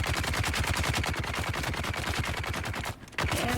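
Rapid automatic gunfire in the video game Dune Awakening, a fast, evenly spaced stream of loud, close shots with one brief pause before the firing resumes.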